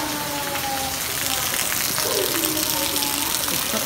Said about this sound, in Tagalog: Napakalakas ang ulan.